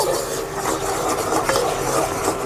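Spoon stirring salt into a mixture in a pan on the stove, a continuous close scraping and rubbing with light metallic clinks, loud and steady with no speech.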